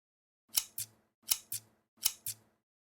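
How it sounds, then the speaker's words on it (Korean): Small thread-snipping scissors trim felt in three quick pairs of crisp close snips, evenly spaced, in a quiet room with no talk. "쪽가위를 이용해서 깔끔하게 잘라주시면"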